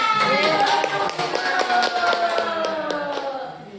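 Hands clap in a quick, rhythmic series of sharp taps during a school session, heard close and moderately loud under ongoing talking voices.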